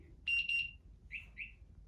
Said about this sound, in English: You'll hear the truck beep in response.